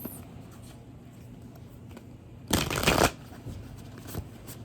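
A tarot card deck is riffle-shuffled once in a quick, crisp burst against a steady low background hum, with no voices.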